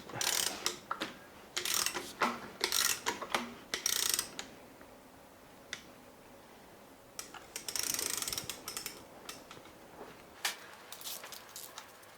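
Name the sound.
tightening last screws on BMW S85 V10 engine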